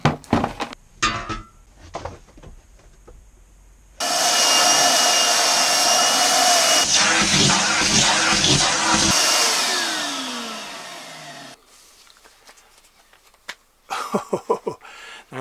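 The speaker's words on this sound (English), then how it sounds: "get the hoover out and tidy it up as best as I can" A vacuum cleaner runs in a narrowboat engine bay, starting abruptly and droning steadily and loudly for about seven seconds before cutting off, with scattered knocks, clinks and handling noises before and after.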